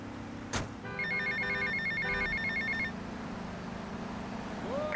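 Payphone ringing in Grand Theft Auto: Vice City, a run of clear electronic bell trills repeating for about two seconds over steady game ambience and traffic rumble, with a brief sharp noise just before.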